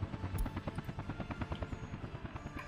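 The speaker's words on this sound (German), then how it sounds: "Helikopter." Helicopter from the Workers & Resources: Soviet Republic city-building game, a steady rotor thrum with rapid rhythmic chopping pulses running continuously at moderate level, no talk over it.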